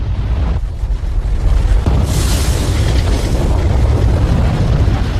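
A lateral volcanic blast of very high-pressure gases tears horizontally across the landscape: a loud, sustained roaring rumble with heavy low-end boom and a hissing surge midway, continuous and close.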